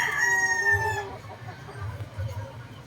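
A banded two-year-old WPC gamefowl rooster gives one loud, close crow, with low clucking and other farmyard birds continuing underneath.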